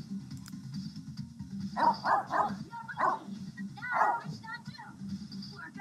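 A dog in The Sims 3 video game gives a run of several short, fairly close barks, some in quick succession, over a low murmur of game background sound.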